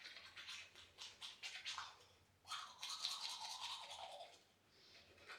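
A toothbrush scrubs teeth in rapid back-and-forth strokes, close and continuous for several seconds, with a brief pause partway through.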